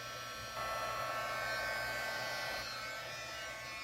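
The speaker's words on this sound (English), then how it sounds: "I'm going to use the dryer. Sorry about the noise," A hair dryer blows steadily with a whirring broadband roar that swells louder partway through, then eases slightly.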